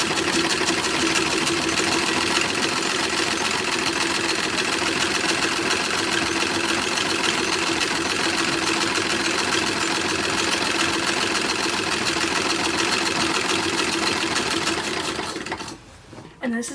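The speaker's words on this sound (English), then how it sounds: "the front seam, which just needs to be stitched down" Sewing machine stitching down the front seam of a WWI Motor Corps uniform, running steadily and loud for about fifteen seconds with a rapid even whir, then stopping near the end.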